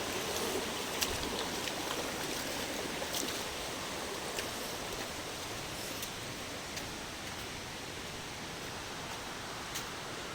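Water pours at the Dimir Khol waterfall in a constant, even rushing roar with no pauses. A few faint higher splashes stand out now and then.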